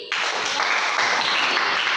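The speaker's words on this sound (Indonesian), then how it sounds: "tepuk tangan untuk Dewi." Applause for a student presenter in a school classroom lesson, a dense steady patter of clapping that starts abruptly and holds at an even level with no talk over it.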